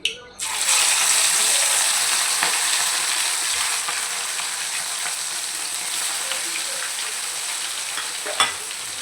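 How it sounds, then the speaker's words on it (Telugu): Spicy marinated fish deep frying in oil, a loud, continuous close sizzle and bubbling hiss that starts abruptly and holds steady, with a faint clatter near the end. "ఇది ఆయిల్లో డీప్ ఫ్రై చేసి మంచిగా ఫ్రై అవుతుంది."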